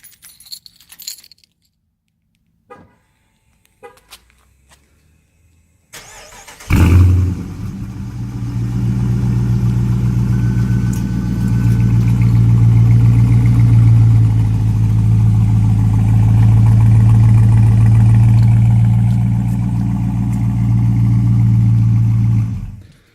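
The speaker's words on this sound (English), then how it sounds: "I'll do a little cold start here for you." After some quiet clicks and jingling, a 2018 Dodge Charger Daytona's 5.7 V8 cranks and fires loudly on a cold start, then settles into a deep, steady rumbling idle that continues close by.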